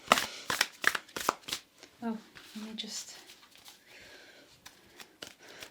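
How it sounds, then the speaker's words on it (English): A large tarot deck being shuffled by hand: quick bursts of card riffling and flicking, close and fairly loud at first, then softer rustling as someone speaks briefly. "Yeah, it's hard to shuffle."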